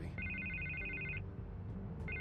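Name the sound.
telephone ringing in video game Batman: The Telltale Series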